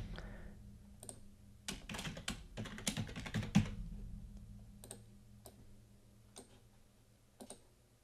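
Keys on a computer keyboard are tapped to enter a password during a Windows Server 2019 setup, with a quick burst of clicks followed by slower, sparser keystrokes over a steady low hum, close and fairly quiet.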